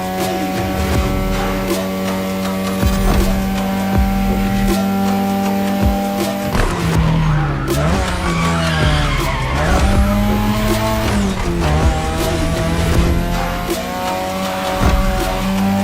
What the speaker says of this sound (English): Tonight your ride is a 3rd Gen 2002 Mazda RX-7. Lightweight, compact, a sick rotary engine